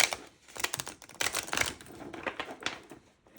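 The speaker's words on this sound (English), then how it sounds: "I have a hard time shuffling these ones." A stiff new tarot card deck being shuffled by hand, giving rapid, irregular papery riffles and slaps in several close bursts.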